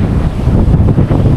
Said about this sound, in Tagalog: Sobrang hangin dito mga kawakwak.